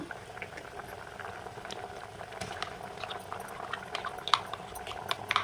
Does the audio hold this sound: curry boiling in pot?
yes